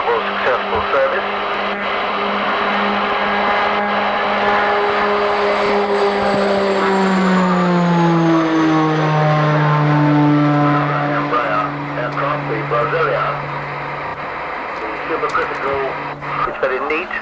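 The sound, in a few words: Italian light regional turboprop airliner flying at air show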